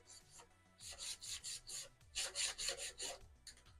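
An abrasive Scotch-Brite pad scuffs dry paint on a small RC model body, giving rapid rhythmic rasping strokes in two close bursts, near and fairly quiet.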